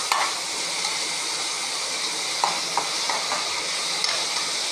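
Onions sautéing with salt in a pan for a spicy egg gravy, producing a loud, dense, continuous hiss of frying with occasional soft utensil taps, close up and without voices.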